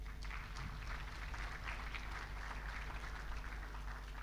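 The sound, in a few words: summit audience clapping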